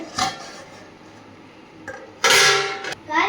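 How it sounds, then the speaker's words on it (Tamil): A metal lid set onto a pot of Maggi noodles cooking on the stove gives a couple of short, bright clanks, with a louder clattering contact near the end. The sounds are close and brief, with quiet gaps between them. "இப்போ நம்ம மூடி வச்சிடலாம் ஒரு 10 மினிட்ஸ்க்கு"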